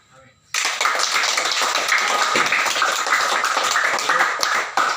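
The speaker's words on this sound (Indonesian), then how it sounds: "Silakan tepuk tangan." Audience applause at a morning meeting of a Nias drug rehabilitation center, a sustained dense clapping that starts abruptly after a brief quiet moment and continues steadily, with voices mixed in.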